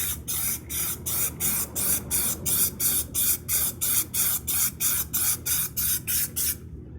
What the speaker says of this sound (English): we're going to apply the Plasti Dip spray.